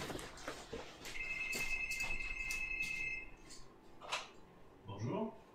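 A telephone rings in the video game Prey, a single sustained electronic tone lasting about two seconds amid quiet clicks and knocks, with a voice speaking near the end.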